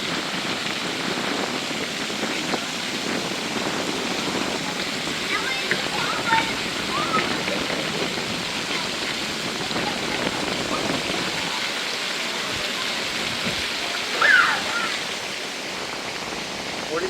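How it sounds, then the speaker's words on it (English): Water jets spraying at a children's splash park in Key West, a steady dense hiss of falling water and splashing that stays constant throughout, with distant voices faintly mixed in. "Cool little splash park here."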